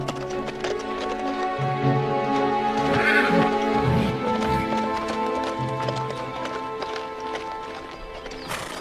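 Horse hooves clip-clop as a horse is brought for a royal chariot, steady rhythmic hoofbeats with a whinny partway through, under a droning musical background and no clear talking.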